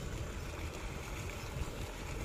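River water flows under the Nepari Kunwari river bridge on the Gwalior–Sheopur–Kota broadgauge line, heard as a continuous, faint rushing wash with a low rumble and no talking.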